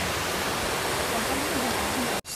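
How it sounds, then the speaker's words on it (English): Sarika waterfall in Nakhon Nayok, Thailand, pours as a dense, steady, close roar of falling water that fills the whole clip. It cuts off abruptly at the very end, and speech may be buried in the rush. "I'm very closer to this Sarika waterfall."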